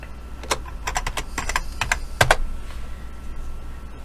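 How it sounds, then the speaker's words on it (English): Typing on a computer keyboard into a search bar, a run of crisp close keystrokes in an uneven rhythm, with a couple of louder presses midway before the tapping trails off. "type here on the search bar"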